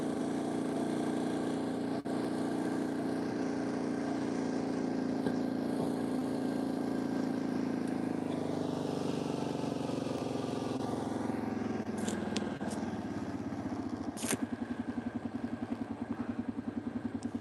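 A quad bike engine runs steadily while riding across snow-covered Sylvan Lake in a blizzard, a close droning rumble with shifting pitch and a few sharp clatters, turning into a rapid pulsing idle near the end.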